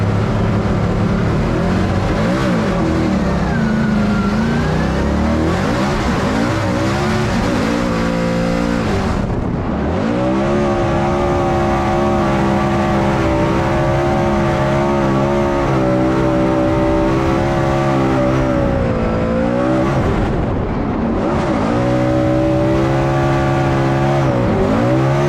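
RTR Ford Mustang drift car at an FD Irwindale competition, engine screaming loud and close, rising and falling as it revs hard through the run with repeated throttle swells and dips.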